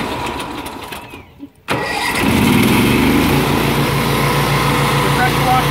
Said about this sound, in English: The pressure washer is running.